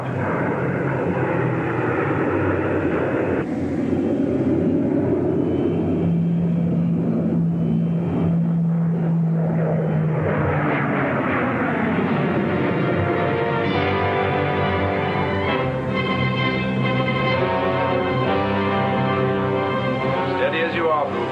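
A fighter plane's engine roars loud and close as the aircraft dives, its pitch shifting and whining as the sound builds, with radio-style voices calling over the top.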